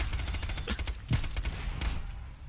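Rapid cryo weapon gunfire in the Borderlands video game, a loud, dense fusillade of shots rattling continuously with a few heavier bursts standing out.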